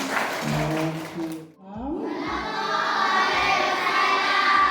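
Schoolchildren applauding during a visit to an Islamic museum, starting with a crowd shouting and cheering, then a brief lull, then loud, sustained clapping from many small hands filling the room.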